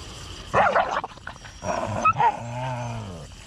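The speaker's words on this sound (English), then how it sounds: "This dog was born to play." A playful dog barks and yips during rough play on a farm, with a few sharp close barks followed by a drawn-out whiny vocalisation, and no one talking.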